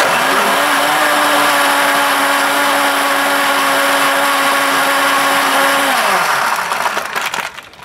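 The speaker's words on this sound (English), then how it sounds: "the ice just goes in the blender" A blender crushing ice runs loud and steady for several seconds, its motor whining at a constant pitch, then winds down near the end.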